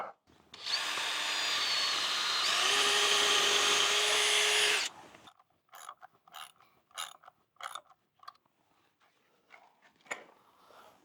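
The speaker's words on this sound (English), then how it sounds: "Let's drill a new hole." A power drill bores a new hole while work is under way on removing stuck concrete forms, a steady loud whine for about four seconds that shifts pitch partway, followed by scattered clanks and knocks from handling tools and materials.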